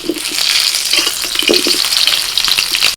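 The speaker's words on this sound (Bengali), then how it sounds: "তেল গরম হয়ে গেছে আলুটা ভেজে নিচ্ছি" Potatoes frying in hot oil in a home kitchen, a steady close, loud crackling sizzle that continues unbroken throughout, with a few soft stirring knocks and no one talking.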